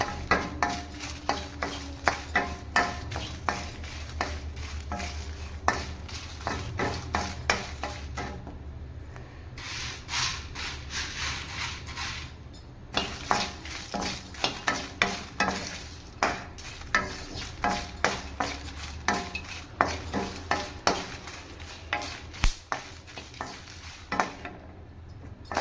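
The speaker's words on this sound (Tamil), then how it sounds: "வரமிளகா வறுபட்டுருச்சு" Dry red chillies roast in a pan for paruppu podi, stirred continuously with a rhythmic run of scraping, rustling strokes against the metal, close and steady with a brief quieter pause partway through and no voices.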